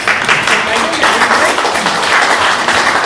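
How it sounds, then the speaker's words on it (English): A tech meetup audience gives a loud, close round of applause, a thick steady clatter of hands lasting about three seconds, with some voices mixed in. "So if we could have a round of applause."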